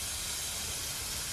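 A steam engine lets off steam in one loud, continuous hiss, broad and steady from start to finish with no one speaking.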